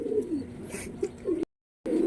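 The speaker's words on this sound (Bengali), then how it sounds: "লক্কা কবুতর গরম হয়ে গেছে ওর ডাকে" A Lakka pigeon in breeding heat coos in repeated low, throaty rolls, close and fairly loud, with a brief silent gap before the cooing resumes.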